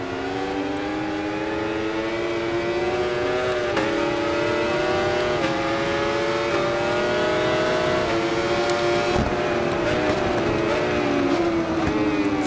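A Yamaha superbike engine in the RIDE 4 racing game holds a loud, continuous high-pitched whine, its pitch gently rising and falling with throttle over about twelve seconds.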